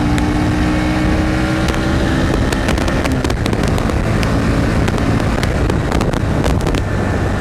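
A 2025 Bajaj Pulsar NS 125 ABS motorcycle is ridden at speed, its engine droning loud and continuous beneath heavy wind rush, with scattered crackling bursts throughout.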